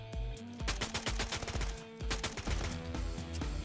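Gunfire in the Free Fire video game comes as rapid automatic bursts of sharp shots in a dense, continuous rattle, fairly quiet overall and with no talk over it.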